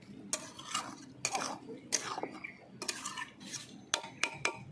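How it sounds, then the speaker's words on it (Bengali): A spoon stirs garam masala powder into a potol chingri curry in a metal pan, giving repeated scraping strokes in a steady rhythm with a faint sizzle beneath, close and moderately loud. "আজকে নামানোর আগে দিয়ে দেবো গরম মশলার গুঁড়ো, ভালো করে মিলিয়ে নেব।"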